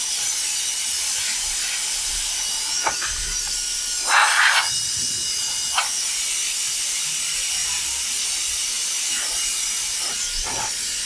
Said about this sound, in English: Okay, have the fan on.